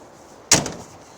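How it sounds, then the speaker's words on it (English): A 1989 Ford Mustang's door shuts once with a single solid thump, close and fairly loud, then a short fading rattle in an otherwise quiet setting. "When you close the doors close nicely"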